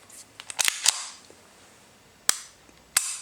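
The trigger of a CZ 75 P-01 9mm pistol is worked, giving a few sharp, close mechanical clicks spaced irregularly over a few seconds in a quiet room.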